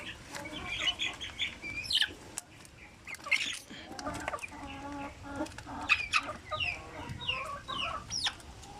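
Native chickens and chicks cluck and peep in a busy, overlapping chorus throughout, close by, with occasional wing flaps and a faint voice in the background.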